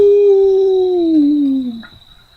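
Huskies howl as a sound effect in a poem reading, one long loud howl that slides slowly downward in pitch and then fades, heard alone up close.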